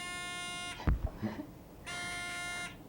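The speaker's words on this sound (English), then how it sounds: "we'll test the buzzers" Quiz bowl buzzers being tested sound two sustained electronic tones, each under a second long, separated by a brief thud and some noise in a quiet room.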